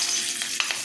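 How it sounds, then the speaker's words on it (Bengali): Nigella seeds and green chillies sizzle in hot oil in a pan while fish is being cooked, a steady close hiss with a few sharper crackles near the end. "কালো জিরা ফোড়ন দিলাম"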